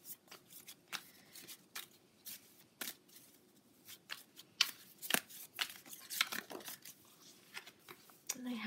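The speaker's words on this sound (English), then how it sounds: "I am going to pull a card from my moon deck." Tarot moon deck cards being shuffled and a card pulled, a run of soft crisp riffling and flicking bursts close by, with quiet talk in the background.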